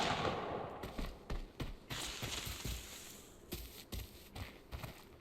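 A rapid series of sharp gunshots in the video game Arena Breakout, some in quick bursts, crackling at moderate distance with no voices over them.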